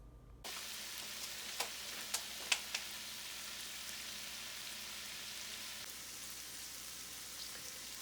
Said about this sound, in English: You can hear that sizzling noise that it's making